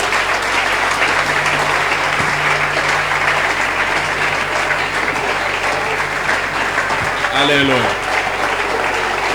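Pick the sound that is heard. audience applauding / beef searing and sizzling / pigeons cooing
audience applauding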